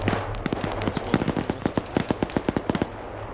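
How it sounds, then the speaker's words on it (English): Several .50 cal machine guns fire in a video game, rapid loud bursts of sharp reports that speed into a dense rattling string before easing off, with no talk over them. "multiple 50 cals are going up and shooting at those positions"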